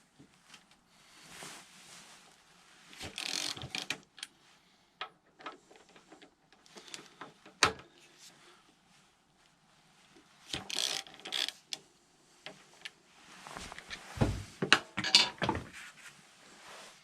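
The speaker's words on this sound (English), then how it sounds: "the first thing we need to do is take off these retaining bolts. They are 8mm Allen key" Brake caliper retaining bolts on a Triumph Speed Triple motorcycle being undone with an 8mm Allen key, giving close metallic clicks, ratcheting turns and tool knocks in intermittent bursts with quiet pauses between.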